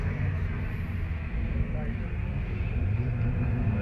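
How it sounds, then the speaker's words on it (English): A Datsun 1600 race car idles at the start line of the Leyburn sprints, giving off a steady, close, low engine rumble with no revving and little change throughout. "We have another Datsun 1600 on the line, and it's Mick Innocent."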